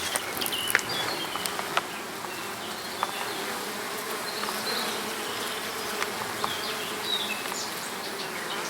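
Dense buzzing of many honeybees at the entrance of a beehive, close and continuous, with individual bees zipping past, scattered small taps and ticks, and no talk.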